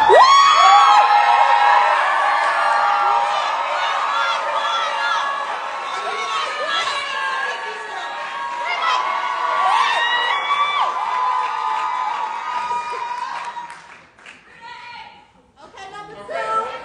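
A crowd at a Zeta Phi Beta sorority probate show at the University of Illinois cheers, shouts and whoops loudly and continuously, then fades into scattered cries and chatter near the end.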